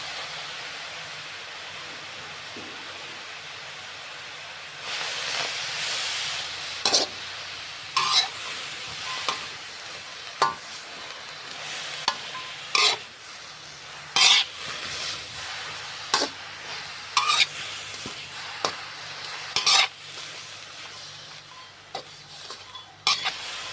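Shrimp stir-fried in a pan for a Thai-style dish, a steady hiss of sizzling oil broken by repeated sharp scraping and clacking strokes of a utensil against the pan, close and fairly loud throughout.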